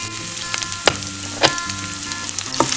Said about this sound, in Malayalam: വറ്റൽമുളക് ഒന്ന് ചെറുതായിട്ട് മൂത്ത് വരുമ്പോൾ നമുക്ക് 5 വെളുത്തുള്ളി ചതച്ചത് ഇട്ട് കൊടുക്കാം.